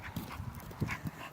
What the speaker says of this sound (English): Look at the cute little dog.